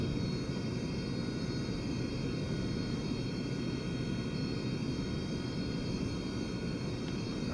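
Steady broadband jet roar of reverse thrust on an airliner's rollout after landing in a flight simulator, a dense, unbroken rumble holding at constant loudness throughout with no voices.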